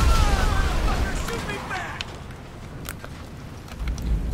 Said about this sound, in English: Let's get the grenade launcher out